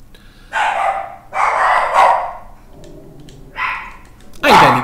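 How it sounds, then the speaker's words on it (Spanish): Dogs bark in short, close bursts, four or five loud yaps separated by brief gaps, the last one sharpest and nearest. "Que se vuelven locos los perros."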